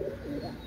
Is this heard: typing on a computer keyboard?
no